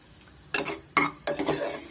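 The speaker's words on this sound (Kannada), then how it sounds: "ಫ್ರೈ ಮಾಡ್ಕೊಳ್ಳೋಣ ತುಪ್ಪದಲ್ಲಿ ಇದಾದ ತಕ್ಷಣ ನಾವು ದ್ರಾಕ್ಷಿ ಸೇರಿಸ್ಕೊಳ್ಳೋಣ" Raisins frying in ghee for jaggery sago payasam, heard as three short bursts of stirring and sizzling, each fading back into a quiet background.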